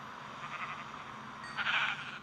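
A sheep in the mobile game Minecraft Pocket Edition bleats in two short, quiet calls, the second louder and clearer, over a faint room hiss.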